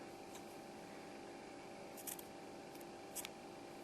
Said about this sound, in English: then you're going to cut your yarn off